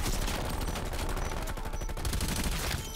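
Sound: gunfire in Black Ops Cold War video game

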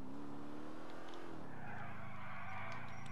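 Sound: car driving and skidding in GTA IV video game

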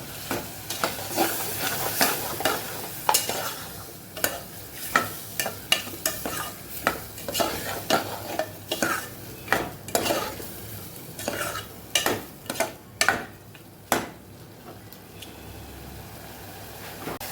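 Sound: stirring rice with turmeric and salt in pan

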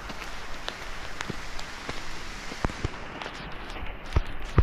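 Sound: rain falling on an oil palm plantation

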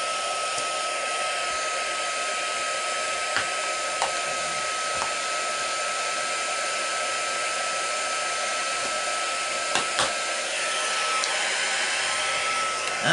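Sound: embossing heat gun blowing

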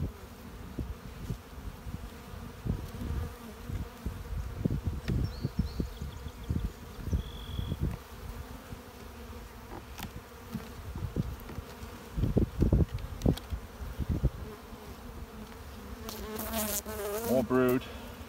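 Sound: honey bees buzzing in hive

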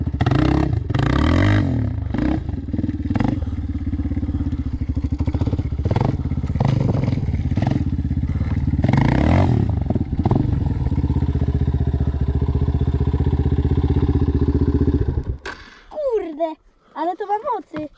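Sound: Raptor 250 quad engine while riding off-road

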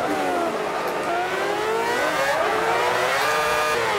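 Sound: F1 race car engine revving in video game Forza Motorsport 5

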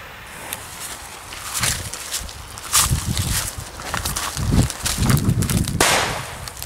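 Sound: Super Böller 1 firecracker exploding

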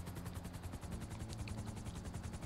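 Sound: helicopter flying in video game GTA 5 Online

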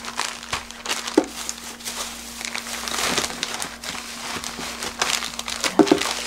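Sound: plastic zipper bag crinkling as portions are packed

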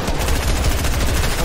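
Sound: gunfire from the video game Fortnite

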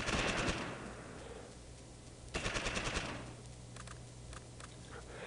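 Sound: gunfire in the video game Close Combat

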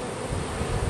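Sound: Italian honey bees buzzing around an opened hive

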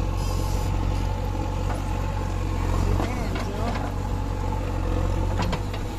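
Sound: tractor engine idling while being loaded with sand

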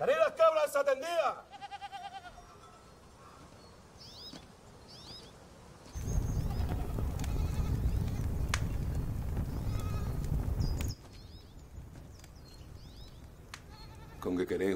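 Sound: goats bleating

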